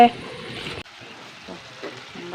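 Curry frying and sizzling in a pan while being stirred, a steady hiss with a brief break partway through as the spoon scrapes and moves the food, close up.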